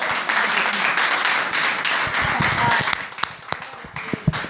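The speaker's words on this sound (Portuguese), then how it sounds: "Uma salva de palmas ao Senhor mais uma vez." A church congregation gives a round of applause to the Lord during a worship service. Steady, fairly loud crowd clapping runs throughout, with sharper individual claps standing out toward the end.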